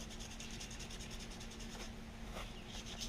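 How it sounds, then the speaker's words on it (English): Emery cloth rubbed over machined Boba Fett chest armor to sand through a thin black layer, a steady close scratchy rasping in quick repeated strokes over a constant low hum. "A little piece of emery cloth here. All I'm trying to do is sand through the really thin black layer"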